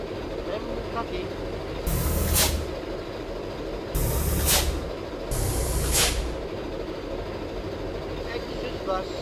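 Foot brake air release on a Hino bus in Bus Simulator Indonesia: three loud, close hissing bursts spaced about two seconds apart, each with a low thump, above a constant engine drone.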